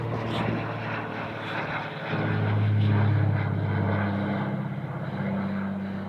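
An airplane passes overhead while descending to land at an airport a few miles away, a steady propeller-engine drone that builds to a broad peak midway and then slowly fades, heard outdoors on a trail with no one talking.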